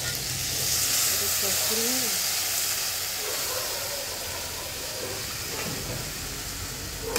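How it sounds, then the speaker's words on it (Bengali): Water added to fried masala in a pan sets off a loud hissing sizzle that swells at first and then slowly eases into a steady bubbling, with a few faint voices in the background. "এবার দিয়ে দেবো জল, অল্প করে জল দেবো।"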